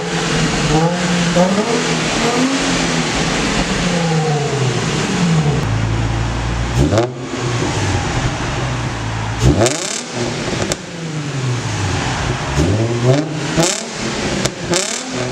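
A 350 engine with a loud aftermarket exhaust, resonators still fitted, revs up and down repeatedly, rising and falling in steady pulls before a few sharp blips, loud and close throughout.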